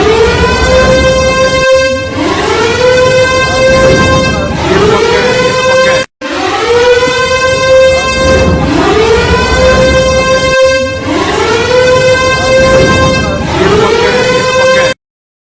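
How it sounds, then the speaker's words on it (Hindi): Loud wailing air raid sirens in Pakistan rise and hold a steady tone, several overlapping, in long sustained cycles with a brief cutoff midway. "सायरन की आवाज सुनाई दी है पाकिस्तान में"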